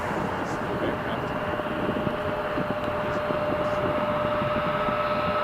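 A WestJet airliner at Toronto Pearson airport at night, heard as a steady, distant broadband jet roar that holds evenly throughout, with no sharp events.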